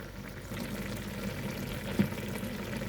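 Thai jungle curry with fish and papaya simmering in a pot, a steady low bubbling and gentle sizzle running throughout with one brief louder pop near the end, no voices.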